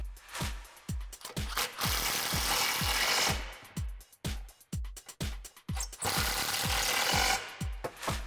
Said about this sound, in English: Then you can grab your extension and 13 socket and tighten them down.